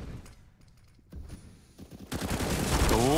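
Gunfire in a professional CS:GO match on Mirage, scattered shots at first, then a dense rapid burst of automatic fire that builds loud toward the end, mixed with game effects.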